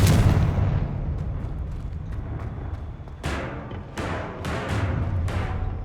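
Confringo blasting spell fired in Hogwarts Legacy, a series of sharp booming bursts, a big blast at the start then several quick explosive cracks later, loud and close over game ambience.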